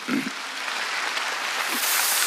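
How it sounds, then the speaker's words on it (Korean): Church congregation clapping together, a dense even wash of many hands applauding close by with little else audible. "두 사람이 다 하나님의 일한 걸 믿어 박수 치라요."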